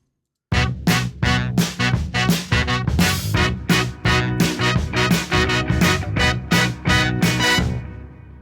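Vintage-style mix of a song playing with horn section, guitars, bass and drums, a loud, punchy groove with strong rhythmic hits that starts abruptly and runs steadily.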